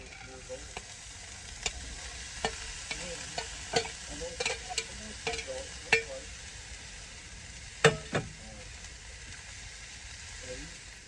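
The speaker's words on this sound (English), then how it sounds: "I'm just going to throw it in a pan," Leftover hash browns, peas and other vegetables frying in a pan, a steady sizzle broken by repeated scraping stirs and utensil knocks against the pan.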